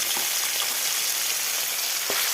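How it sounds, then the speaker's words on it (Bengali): Small boroli fish fry in a pan with a steady, close crackling sizzle that runs unbroken, broken only by a few soft stirring knocks. "এখন হচ্ছে বোরালি মাছ ছোটো মাছ ভাজা করছি"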